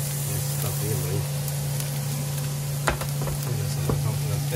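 Onions frying on a busy taco griddle at a pastor and asada stand give a loud, steady sizzle, broken by a few scraping clicks of a spatula.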